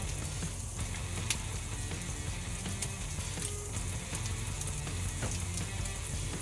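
Sausages browning in a pan for peppers and sausage marinara, a steady crackling sizzle of frying with scattered pops, close and continuous with no talking.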